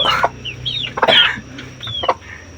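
A hen clucks close by in short, irregular bursts, with other fowl calling around her over a low background hum.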